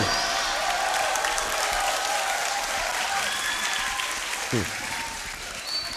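A large audience at a Maulid Nabi religious gathering applauds in a steady, dense wash of clapping that carries on throughout, with voices mixed in underneath.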